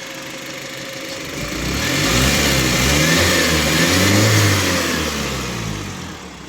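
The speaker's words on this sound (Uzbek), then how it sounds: "Motor ishlashlari juda ham tiniq holatda ishlayapti." A gas-fuelled car engine with about 110,000 km on it runs smoothly, then revs up into a loud, sustained roar before easing back, all close by and with no voices over it.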